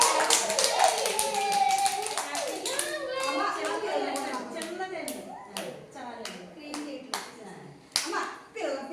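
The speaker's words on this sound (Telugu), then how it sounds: "క్లాప్స్ కొట్టండి, క్లాప్స్ కొట్టండి." Young children clap their hands at a birthday celebration in an Anganwadi school, irregular sharp claps scattered at close range, mixed with kids' chatter and an adult voice talking.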